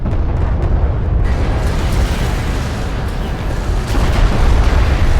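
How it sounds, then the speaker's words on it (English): Heavy weapon fire striking a light attack vehicle in the real-time strategy game Deserts of Kharak, with loud rumbling blasts and booming impacts that roll on continuously, rising again near the end. "Light attack vehicle is under fire."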